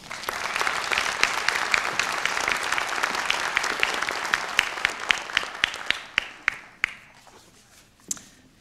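An audience at a graduation ceremony claps to welcome the speaker, a dense, steady round of applause that thins out into scattered individual claps near the end.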